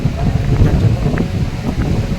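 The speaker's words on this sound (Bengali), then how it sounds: "প্রচণ্ড হাওয়া চালাচ্ছে চলে গেছে" Strong wind at Digha beach on the sea shore buffets the microphone with a loud, continuous rumble and gusty roar, and voices are faintly audible underneath.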